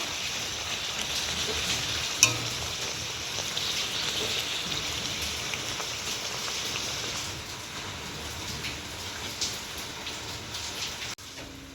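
Palm luchi deep-fry in hot oil with a constant close hiss and bubbling sizzle, dotted with small pops and a brief clink near the start and a clatter at the end.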